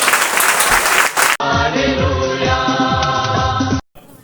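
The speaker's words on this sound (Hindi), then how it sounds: "हम सब मिलकर प्रभु यीशु मसीह को जोरदार तालियों के साथ धन्यवाद।" Worshippers at a church gathering clap loudly together, a dense crowd applause for about a second before music with a steady beat plays under it, then it cuts off.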